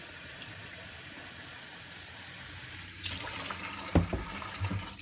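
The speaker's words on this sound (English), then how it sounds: "I'm going to fill that halfway up with water" Running water from a tap pours steadily into a pitcher, a quiet hiss at first, then louder splashing and gurgling as the flow strengthens.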